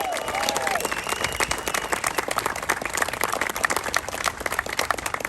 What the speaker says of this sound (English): Give a big round of applause that he's gone.